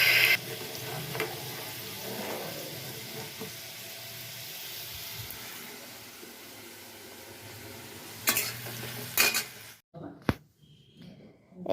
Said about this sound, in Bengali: এই যে আলু ভাজা হচ্ছে